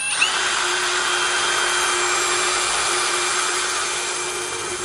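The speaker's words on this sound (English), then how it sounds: "Don't drill through your finger." A power drill bores steadily through a plastic jar lid, one continuous loud whine holding for about five seconds with no pauses.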